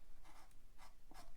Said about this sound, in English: So I'm going to go ahead and just draw in his mouth here.